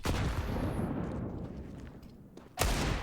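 Gunfire in Counter-Strike on the Mirage map: a dense burst of loud shots and impacts fades over a couple of seconds, then a sharp new gunshot cracks in near the end, with no talk.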